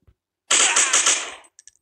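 Automatic gunfire in the action video game Critical Action: one close, loud burst of rapid shots lasting about a second, followed by a few faint clicks.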